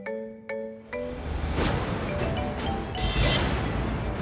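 Phone ringing in a Hindi TV drama scene: a few short electronic ring tones at the start, then a loud, noisy dramatic whoosh and crash of music.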